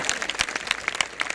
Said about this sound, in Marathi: प्रेक्षक हो, तुम्हाला जर हा देखावा आवडला असेल तर एकदा खडखडीत टाळ्या होत जाऊ द्या.